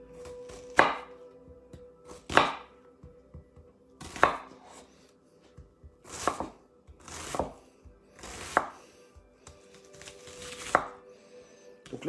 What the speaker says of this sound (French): on continue à émincer son oignon